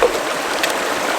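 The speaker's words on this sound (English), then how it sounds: "That's a big river, bro. It's a real river." A big river flows steadily near a camp, its broad hiss of rushing water loud and close with no voices.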